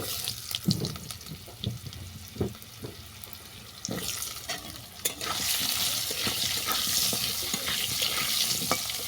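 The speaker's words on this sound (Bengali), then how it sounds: "আলুটাকেও বেশি ভাজবো না হালকা করে ভেজে নেব" Cut potatoes sizzle in hot oil with panch phoron spices, stirred with irregular scraping knocks at first, then a denser steady frying hiss takes over.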